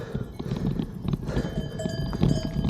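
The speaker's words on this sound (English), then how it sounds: "That's the cows with their bells." Clanking cowbells ring irregularly from several cows nearby in France, over a low rumble of hooves and outdoor ambience, fairly quiet and continuous.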